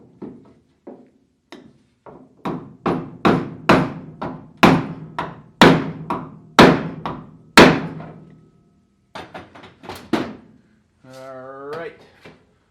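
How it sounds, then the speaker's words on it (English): A hammer drives a block of wood against a door latch striker in a series of sharp wooden thunks, first a few light taps, then a quick run of heavy blows, followed by a few more hits and a brief spoken word at the end. "We're going to be able to move it with a hammer and a block of wood"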